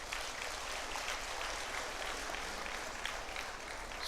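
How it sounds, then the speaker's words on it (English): An audience at a centenary celebration claps in a steady, dense patter that lasts throughout, sounding somewhat distant and even. "Please give a round of applause to her."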